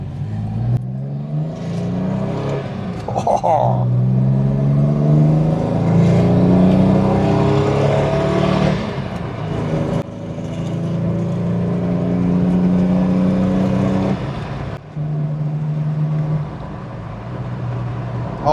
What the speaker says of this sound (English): Oh yeah, those are proper meaty car noises.